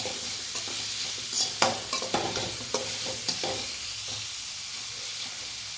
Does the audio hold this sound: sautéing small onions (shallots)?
yes